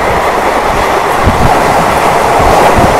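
A Mumbai local train runs on a parallel track near Bhandup, heard from a neighbouring moving train as a loud, steady rumble with rhythmic wheel clacks throughout.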